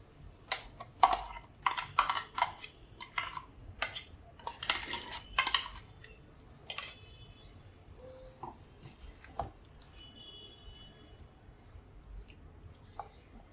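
A spoon clinks and scrapes against a curry pot as ground spice paste is stirred into cooked carrots and green chilies, in bursts of knocks that grow sparser and quieter.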